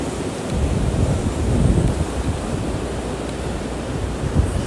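Steady wind roars and surf rolls at Praia de Cotovelo beach in Natal, beside sea cliffs. A broad, continuous wash of noise runs the whole time with gusty swells, loud and close, and no voices.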